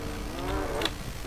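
Goat bleating in the horror video game Devour, a short wavering nasal cry rising over a droning ambient background with no speech.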